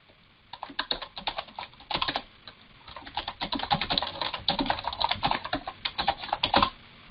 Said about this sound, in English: you can type in the subject of the email,